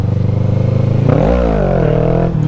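A motorcycle engine surges in a sharp rev as the clutch slips, a loud close harmonic drone climbing in pitch, dipping and rising again before easing off.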